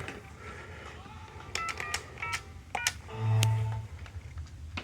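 A desk phone dials an Algo 8180 SIP pager, giving a quick series of short keypad beeps and tones followed by a longer low buzz, fairly faint against room noise.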